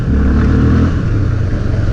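A Honda CB 300 motorcycle sits in neutral, its engine revving loud and close in a short, continuous mid-pitched drone with a slight rise and fall.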